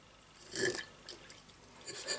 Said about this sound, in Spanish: Una vez hecho el análisis de la densidad, devolveríamos el electrolito en el vaso.